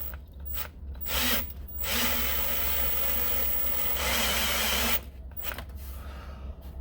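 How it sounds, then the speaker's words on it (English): Transmission pan bolts on a 1997-2004 Buick Regal are lightly tightened with a power tool, heard as several short whirring bursts separated by brief pauses against a low background hum. "what I'll do is I'll very lightly tighten them"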